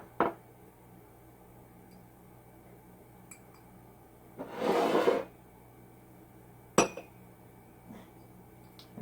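Stirring a tinted faux snow mixture with alcohol in a container, a single rough scraping swirl in the middle, framed by a few sharp clinks and taps in an otherwise quiet room.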